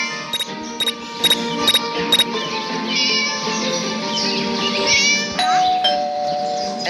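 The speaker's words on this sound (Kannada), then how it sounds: "There goes that stupid bell again." Doorbell in the Scary Teacher video game ringing in quick repeated chimes at the start, over steady game music and effects with squeaky mouse-like and cat sounds later.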